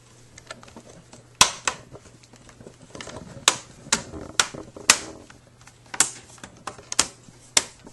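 Sharp plastic clicks of an HP ProBook 4525s laptop screen bezel snapping into place one after another at roughly even intervals, close up, over a faint steady hum and soft handling noise.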